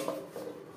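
A metal lid set down onto a cooking pot on the stove while making a vegetarian cauliflower paneer dish, a soft scraping slide ending in a short clanking knock, close and fairly loud.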